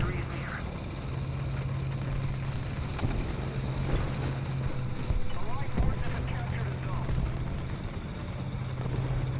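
Apache attack helicopter in the War Thunder video game, a steady droning rotor and engine hum with a low tonal buzz running throughout at moderate level, with faint game noises layered over it.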